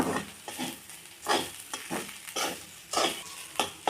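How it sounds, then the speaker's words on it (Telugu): Ivy gourd fry with fresh coconut powder gets stirred in a pan over low heat, giving a series of scraping, rustling strokes about every half second over a soft sizzle, close and moderately loud, with no talking. "కొబ్బరి పొడి వేసుకోవాలి. పచ్చి కొబ్బరి అండి. సిమ్లో పెట్టుకొని కలుపుకోవాలి"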